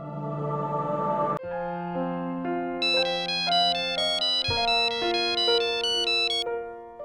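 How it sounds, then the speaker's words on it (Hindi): A phone ringing after a call is dialed plays a loud, melodic electronic ringtone of repeating bright notes for several seconds, with no voices. "अच्छा ठीक है बेटा, मैं अंबर के फोन पे डायल कर लेती हूँ।"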